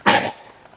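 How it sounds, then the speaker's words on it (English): A single sharp, loud cough from a person on an outdoor trail, close to the microphone and followed by quiet. "Oh, I coughed up something,"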